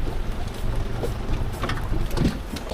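Steady rain hiss on water and a boat while fishing from a boat at Bang Saray, Thailand, a constant close wash of drops throughout with no talk.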